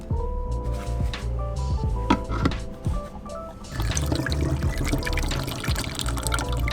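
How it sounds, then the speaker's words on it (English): Rinse water poured into a film developing tank at home, shaken and poured back out: a steady close sloshing pour that swells into a louder rushing gush partway through, with no talking. "I'm just pouring water into the tank and shaking it around and pouring it back out."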